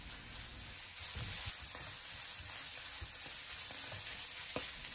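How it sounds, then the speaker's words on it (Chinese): Silver ear fungus stir-fried in a wok with carrot shreds, a steady soft sizzle with faint scraping stirs throughout, no talk. "再把切好的银耳放进锅中，然后继续的翻炒一下，"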